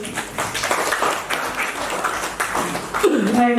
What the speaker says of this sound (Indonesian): Sekali lagi kita beri aplaus yang sangat meriah